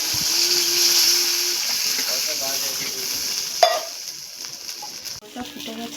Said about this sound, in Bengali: এবার এটাকে আমি ভালো করে কষাবো যতক্ষণ না তেল ছাড়ে